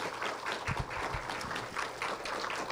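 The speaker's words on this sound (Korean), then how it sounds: "박수 부탁드릴게요." Audience applauding at an artist talk with Wael Shawky, a steady, moderately distant patter of many hands with a few louder nearby claps and thumps.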